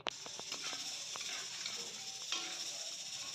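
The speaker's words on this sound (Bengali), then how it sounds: "মুংফলিটা ফ্রাই হচ্ছে, তো একটু লাড়াচাড়া করে নিই" Peanuts fry in ghee with a soft, steady sizzle, faint and close, while a few quick clicks and scrapes of a stirring utensil sound early on.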